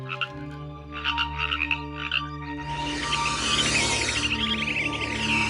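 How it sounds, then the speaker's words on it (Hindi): A frog, caught in a snake's mouth, croaks in fright with a run of loud, repeated croaks. Midway they give way to a denser, continuous chorus-like croaking, close and alone with no talk. "एक सांप ने मेढक को पकड़कर मुंह में दबा लिया है, इसलिए मेढक डर के मारे घबरा कर चिल्ला रहा है।"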